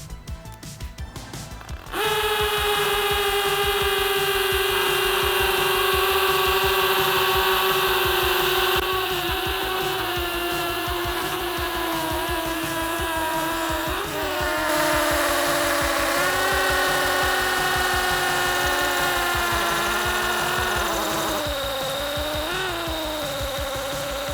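A DeWalt Atomic or Xtreme compact hammer drill bores with a 1/2 inch bit, a loud sustained whining motor with a rapid hammering rattle that shifts pitch and strains at moments, starting abruptly after a brief lead-in.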